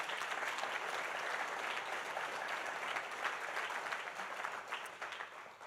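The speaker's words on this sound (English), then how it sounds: "Let's give them all a round of applause." An audience at the opening of a new airline concourse and gates at LaGuardia Airport applauds steadily, a dense even clatter heard at a distance, tapering slightly at the end.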